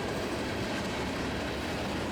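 A CSX freight train rolls past on the Indianapolis line at Fortville, Indiana, with a loud, steady rumble of rail cars and faint rhythmic wheel clatter, close by and with no voices.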